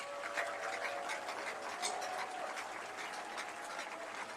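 Applause from an audience at a Bayelsa State government event honouring His Excellency, a steady, fairly faint wash of clapping that holds for several seconds without a break.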